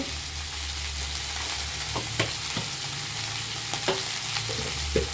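A yardlong bean mash seasoned with salt and a pinch of turmeric sizzles gently in a pan while a spoon stirs it, with a steady low frying hiss and occasional soft scraping clicks close by.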